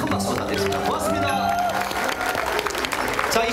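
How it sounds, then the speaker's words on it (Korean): Audience applause and cheering after a doubles table tennis exhibition match, a full crowd clapping steadily at close range while a voice speaks over it. "큰 박수 받겠습니다"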